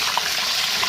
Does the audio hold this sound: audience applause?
no